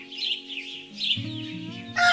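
Chickens on a farm clucking and chirping in short bright calls, with a steady tonal drone underneath and a louder burst of calls at the end.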